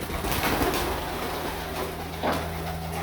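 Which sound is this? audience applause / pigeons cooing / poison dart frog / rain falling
pigeons cooing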